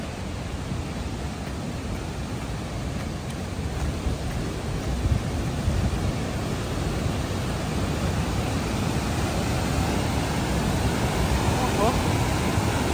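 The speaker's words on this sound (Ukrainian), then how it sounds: "А вода так шумить" A steady broadband rush of water flows along a forest path, loud and continuous throughout with no distinct breaks, the roar filling the whole stretch as a walker passes by.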